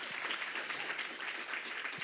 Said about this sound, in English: can we get one more round of applause that's a little bit louder